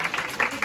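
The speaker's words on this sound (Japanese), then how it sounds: "拍手。" Applause from the crowd at a student club's summer-camp live show, a short steady burst of clapping with some voices mixed in.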